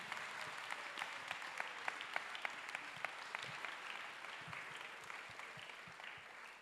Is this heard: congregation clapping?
yes